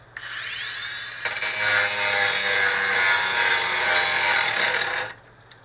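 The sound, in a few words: grinding rust off a metal semi truck part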